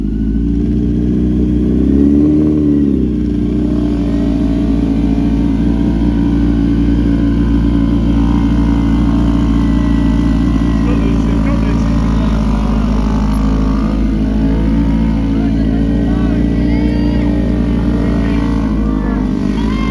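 Several motorcycles, including a Kawasaki, rev and pull away on a road at a learner riders' night, a loud, steady engine drone with rising revs and a low rumble throughout, no clear talk.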